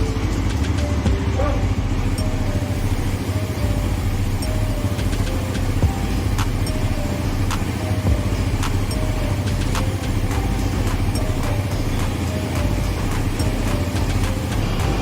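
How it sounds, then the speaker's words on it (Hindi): A Bajaj Pulsar NS400Z motorcycle running in first gear during its first service while the chain is sprayed, a steady close engine drone with faint metallic ticks throughout. "गाड़ी को स्टार्ट करके डालेंगे फर्स्ट गियर में और करेंगे चेन को स्प्रे।"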